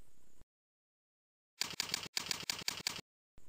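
A computer keyboard typing a shell command to run the cPanel/WHM installer on a fresh Linux install, then pressing Enter: close, crisp rapid keystroke clicks in two quick runs with a brief gap, no voices.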